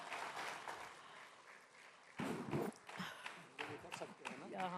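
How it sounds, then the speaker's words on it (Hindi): At the Ideas of India 2026 event with an actor, an audience claps in soft, distant bursts of applause that swell midway, with a voice speaking over it near the end. "जोरदार तालियां"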